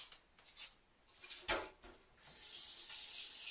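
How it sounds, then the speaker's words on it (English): Cold tap water runs into a stock pot at a kitchen sink, starting after a few soft handling knocks and then pouring as a steady, close rush. "Fill it up with cold water. Lots and lots of cold water."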